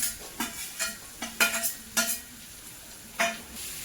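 Peas tipped into a pan of vegetables frying without added spices, a soft sizzle underneath several clattering scrapes of a spoon against the pan in an uneven rhythm.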